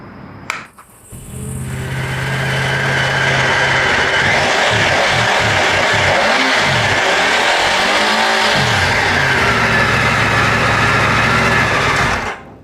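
A Triumph Tiger motorcycle's triple-cylinder engine starts and runs, building to a steady, high buzzing drone with rising and falling throttle, loud and close throughout before cutting off.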